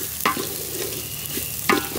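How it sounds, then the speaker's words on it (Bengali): Biryani being stirred in a pot over a wood-fired stove on a rooftop, with two distinct scraping stirs against a steady low sizzle, close and moderately loud. "এখন মামি একবার নাড়া দিচ্ছে।"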